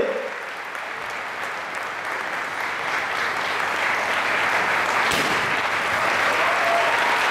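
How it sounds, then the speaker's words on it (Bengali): A large audience applauds loudly and without pause, dense clapping that holds steady and grows slightly stronger throughout. "খুব জোরে একটা হাততালি হবে এবং হাততালি চলতেই থাকবে"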